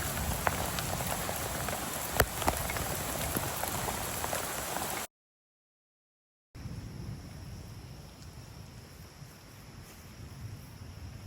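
Rain falls outdoors near a creek in Thailand as a dense, even patter on surfaces close by. It stops abruptly for a second or so, then resumes at a slightly softer level.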